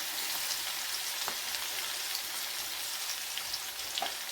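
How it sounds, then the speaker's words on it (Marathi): Crushed garlic frying in oil with mustard seeds for an onion-greens bhaji gives a steady, fairly soft sizzle with a few faint pops and crackles scattered through. "आता याच्यामध्ये आपण हा कुटलेला लसूण टाकून घेणार आहोत"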